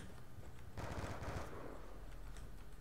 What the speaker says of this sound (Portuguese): Quem tá atirando, velho?